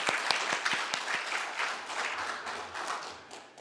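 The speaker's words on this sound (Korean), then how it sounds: "박수 한번." Congregation at a New Year's Eve church worship service breaks into applause, a dense wash of clapping with a few sharp nearby claps standing out, steady then easing slightly, with no talking over it.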